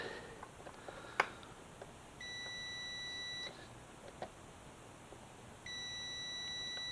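Two steady multimeter continuity beeps while checking Yamaha FZ6R motorcycle fuses, each lasting about a second, sound at a quiet level over faint background hiss, with a brief click between them.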